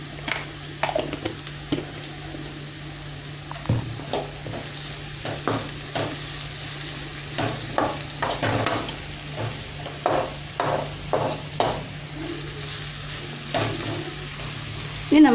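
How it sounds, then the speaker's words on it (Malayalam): Onions sauté in a pan for a Kerala-style beef curry, giving a steady close sizzle broken by frequent scraping stir strokes throughout, with no talk. "നമ്മുടെ ഉള്ളി ഏകദേശം വഴന്ന് വന്നിട്ടുണ്ട്."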